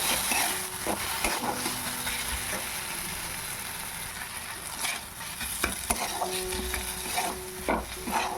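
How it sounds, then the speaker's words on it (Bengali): Turmeric, chili powder, crushed whole coriander and salt are stir-fried in a pan. A steady sizzle sits under repeated scraping and clanking spatula strokes, with a few louder knocks, all close by and without speech. "এবার মশলাটাকে ভালো করে কষাবো।"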